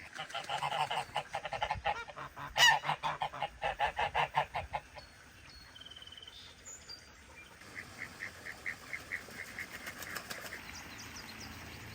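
Domestic geese on a Canadian homestead honk in a loud, rhythmic string of calls as they are let out of their pen, with wing flaps and further honking trailing off more quietly.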